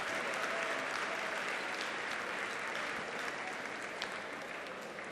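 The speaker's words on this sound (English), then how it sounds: "Fans giving her a nice round of applause." Fans in a gym applaud at a girls' high school basketball game, a dense, steady wash of clapping heard fairly faintly from across the room, unbroken for the full length.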